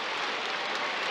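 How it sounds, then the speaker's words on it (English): Steady crowd applause from a virtual ballpark crowd in the MLB 2K11 baseball game, a dense continuous wash of clapping and cheering, fairly even and moderately loud throughout, with no talk over it. "Should be a big round of applause as he comes out."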